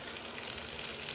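Beans and other vegetables, along with curry leaves, frying in a pan for ragi kichadi, giving a soft, steady sizzle that stays low and even throughout.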